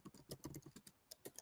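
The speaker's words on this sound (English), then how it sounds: "Magic's like typing how to leave StreamYard" Fingers type on a computer keyboard in quick, irregular bursts of crisp key clicks, quiet and close, with no one speaking.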